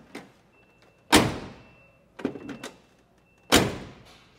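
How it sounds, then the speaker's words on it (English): A 1969 Plymouth GTX door shuts twice with solid, heavy thunks, each followed by a short ringing decay, with a softer latch clunk between them, close by and with no talking. "That is a solid door."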